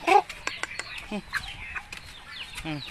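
Chickens cluck and squawk close by while being fed, a busy, irregular chatter with short sharp calls overlapping and a faint voice now and then underneath.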